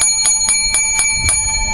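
A bell sound effect rings seven times in quick, evenly spaced bright strikes, loud and close, with no talk.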